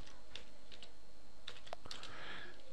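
Someone types Python commands on a computer keyboard, producing a handful of faint, close, separate keystrokes in an uneven rhythm over quiet room tone.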